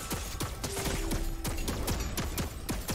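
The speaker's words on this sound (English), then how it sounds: "my turret is going crazy right now" An automatic turret in a shooter video game fires a rapid, steady stream of sharp shots, roughly evenly spaced and loud, layered over a busy background of game noise.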